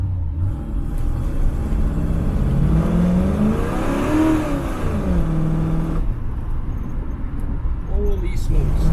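Car fitted with an ACES EFI Killshot throttle-body fuel injection system, engine revving up as it accelerates onto a freeway, pitch climbing through a gear then easing off, with a driver talking over the engine.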